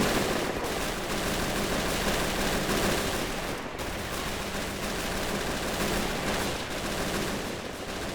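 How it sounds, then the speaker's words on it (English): Seven German MG42 machine guns pour continuous fire onto advancing Russian infantry in the trench battle of Assault Squad 2, a dense unbroken roar of overlapping bursts filling the whole stretch with no pauses. "I think they have 7 MG42s currently firing down on that infantry."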